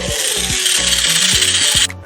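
Matcha being stirred in hot water in a home kitchen, a steady brisk whisking or scraping rhythm running continuously for about two seconds, close and fairly loud, with no talk.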